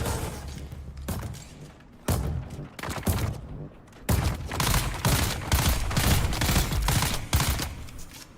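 Turret gunfire in Dune: Awakening, a dense run of loud, close automatic bursts broken by short pauses, with heavy thumping impacts and no talking.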